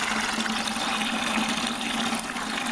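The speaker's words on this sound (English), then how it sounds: "I'm just going to fill it up with a hose pipe for now." Water from a hose pipe pours steadily into a container for a DIY solar shower, giving a loud, continuous rushing and splashing for the whole stretch.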